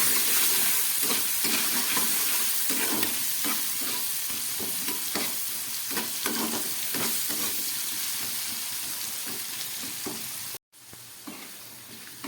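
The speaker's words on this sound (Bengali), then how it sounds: "এটা দিয়ে আমি আলুটাকে খুব ভালোভাবে এবার একটু ভেজে নেব।" Potato pieces fry in oil with turmeric and salt, giving a continuous close sizzle and hiss with soft stirring underneath, then briefly cutting off near the end.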